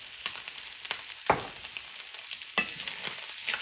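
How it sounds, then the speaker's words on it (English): Cubanelle pepper sautés with crisping duck in a pan, giving a steady close sizzle broken by a few sharp scrapes and taps of a utensil against the pan. "And then we'll saute that for a few minutes."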